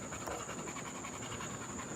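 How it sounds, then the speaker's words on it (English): A large seven-month-old dog weighing about 80 pounds pants steadily and rhythmically on a back deck, close by, under a constant hiss of background noise. "dog, shaking the pole, 7 months old, already weighs like 80 pounds"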